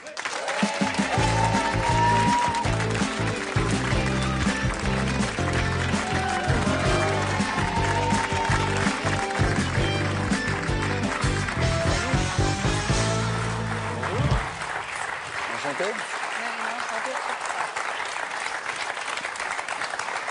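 A studio audience on the French TV show Amanda applauds loudly to welcome a singer, a dense roar of clapping over a thumping music bed that drops away near the end, leaving softer applause.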